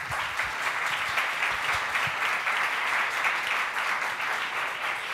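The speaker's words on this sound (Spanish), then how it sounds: "Un aplauso." A crowd applauds steadily at a science talk, dense continuous clapping holding at an even level throughout without any voices over it.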